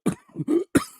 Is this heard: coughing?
yes